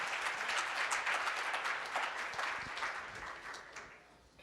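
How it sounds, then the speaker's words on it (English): Warm audience applause greets someone speaker taking the stage at the Founder Factory 2017 event, a dense, steady wash of many hands clapping that holds strong before gradually tapering off. "let's give her a warm round of applause and welcome Rakia today"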